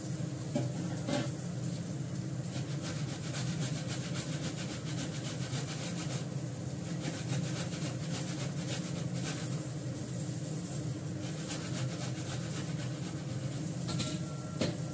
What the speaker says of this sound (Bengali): আদা ঘষে নিলাম